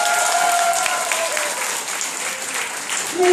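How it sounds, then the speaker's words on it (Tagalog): A loud burst of audience applause fills the room, dense clapping holding steady throughout with a faint swell near the end. "nais ko po makarinig ng malakas na palakpakan"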